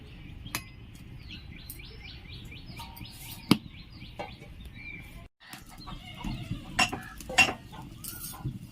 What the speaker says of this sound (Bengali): এবার এটা আমি ঢাকা দিয়ে দেবো।